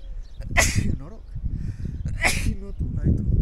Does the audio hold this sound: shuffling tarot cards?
no